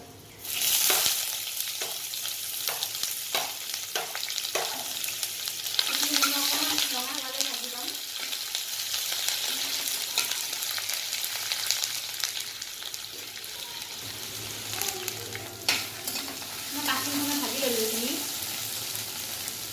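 Chopped onions fried in hot oil for an aloo papad sabji give a steady, close sizzle throughout, with clattering stirring strokes and brief bits of talk over the frying.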